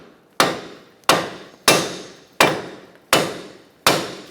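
A sledgehammer strikes the steering knuckle of a 2004-2009 Mazda 3 during front CV axle replacement: six loud, sharp metallic blows at a steady pace, each ringing and decaying before the next, with no talk.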